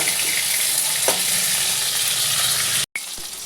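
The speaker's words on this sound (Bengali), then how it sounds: "আমি একটু কড়া করে মাছটা ভাজি" Bhola fish frying crisp in hot oil in a karahi, a steady loud sizzle and crackle running throughout with a brief break near the end.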